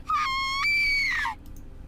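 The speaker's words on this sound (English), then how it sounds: "A scream." A single high, piercing scream of a girl in a visual novel game, with a held tone that rises sharply, then sustains and slides downward before cutting off, loud and close.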